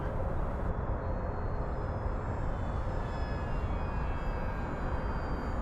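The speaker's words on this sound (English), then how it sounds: "Do a nice slow flyby right here." An FMS PC-21 Pilatus RC model airplane makes a slow flyby. Its electric motor drones steadily with a faint whine that rises and falls, over constant broadband wind noise.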